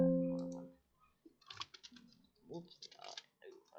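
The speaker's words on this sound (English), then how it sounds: "Now, type anything, but so I'm going to type." Typing on a computer keyboard: a short tone at the start, then scattered quick key clicks in small clusters, close and quiet.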